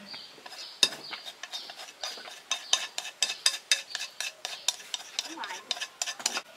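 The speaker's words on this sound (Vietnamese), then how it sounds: "Bỏ bột chiên giòn vô Trộn đều lên" Shrimp and crispy frying flour are stirred in a bowl with a spoon or utensil. Quick, regular scraping and clinking strokes repeat throughout, close and fairly quiet, with no talking.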